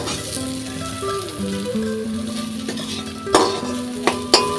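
Taro leaves fry in a pan with a steady sizzle, broken by a few sharp scraping and stirring clacks near the end; no one speaks.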